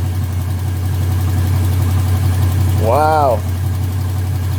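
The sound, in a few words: Luhrs 28 boat engine idling after hose fix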